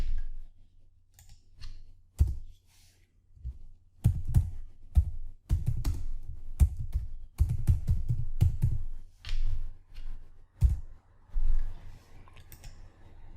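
Typing on a computer keyboard while entering a Siemens S7 PLC program, with bursts of sharp, close clicks in irregular runs separated by short pauses, no talk.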